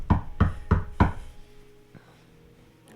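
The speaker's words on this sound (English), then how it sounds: "Hear the knock." Four firm knocks on a door in quick, even succession, close and loud, followed by near silence.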